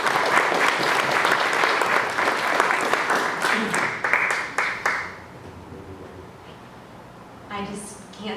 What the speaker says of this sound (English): they just deserve a round of applause